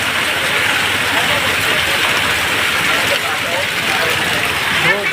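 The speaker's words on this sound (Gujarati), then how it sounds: "ધોધમાર વરસાદ પડે" Heavy rain pours down in Chhapi village, a dense, constant hiss of water that stays loud and even, with voices talking over it.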